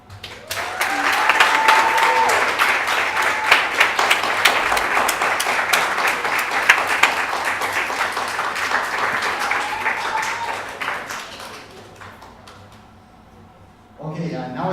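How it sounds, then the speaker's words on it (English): Audience applauding presenters at a conference session, a dense crowd of clapping that swells, holds for about ten seconds and fades, followed by a voice speaking. "Let's give all the presenters another round of applause."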